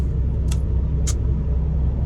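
A truck idles in a hot Laredo training yard, a steady low engine rumble close by, broken by two brief sharp hiss-like bursts.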